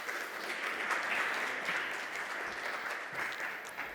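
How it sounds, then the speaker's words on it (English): Steady audience applause welcoming panelists onto a conference stage, an even wash of clapping from a sizable crowd throughout, heard at moderate level without voices. "Let's give a round of applause."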